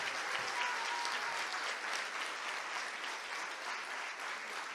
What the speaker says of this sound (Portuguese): Vocês podem aplaudir ao Senhor?